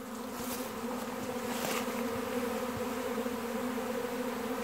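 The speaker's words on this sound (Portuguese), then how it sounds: "Ora, está um enxame aqui a chegar." A swarm of honeybees arrives at a hive, a dense, continuous buzzing hum of many insects close by, steady and full throughout with individual bees droning past.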